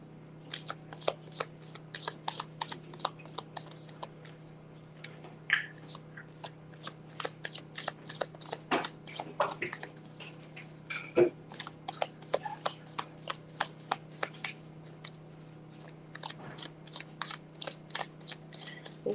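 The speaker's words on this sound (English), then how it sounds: "it makes me happy to look down and shuffle these cards" Tarot cards being shuffled close up, a long run of crisp riffling bursts and soft taps at an uneven pace over a low steady hum.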